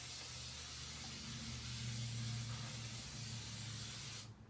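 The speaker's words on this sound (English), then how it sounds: "This is cooking spray" A can of cooking spray hisses in one continuous close spray onto a pan lasting a few seconds, then cuts off abruptly.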